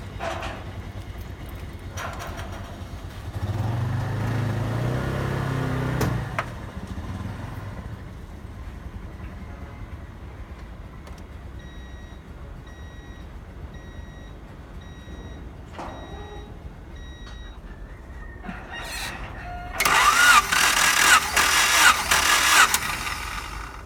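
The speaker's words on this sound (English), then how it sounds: "now I will crank the engine for around 4 revolutions" A Honda car engine cranks briefly during a cylinder compression test, then runs at a low idle for a while, with a couple of clicks and a loud burst of high-pitched noise near the end.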